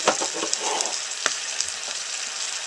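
Drained mushrooms go into a hot pot for bolognese and start frying, giving a bright, steady sizzle with a few brief clicks and scrapes as they land and settle.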